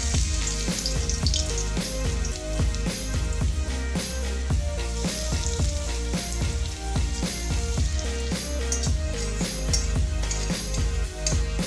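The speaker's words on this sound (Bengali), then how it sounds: "আমি এর মধ্যে প্রথমে রসুন কুচিটা ছেড়ে দিচ্ছি।" Chopped garlic dropped into about two tablespoons of hot oil for a chilli egg dish, sizzling loudly and continuously with dense crackling close to the pan.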